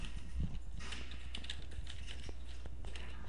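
Someone types on a computer keyboard into a browser search bar, a run of quick, soft key clicks over a constant low hum.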